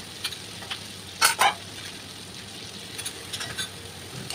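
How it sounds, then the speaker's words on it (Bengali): Ground spices (turmeric, Kashmiri chilli, cumin and coriander powder) fry in oil in a pan for chicken curry, making a soft, steady sizzle broken by a couple of sharp spatula scrapes near the middle and lighter scrapes later. "এইবারে মশলাটা আমি ভালো করে কষিয়ে নিচ্ছি।"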